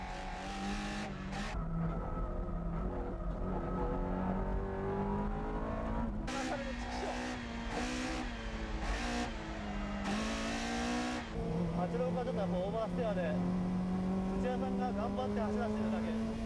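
Drift race cars roar past with rising and falling engine pitch, gear shifts and tire squeals, loud and continuous, with a voice talking over them.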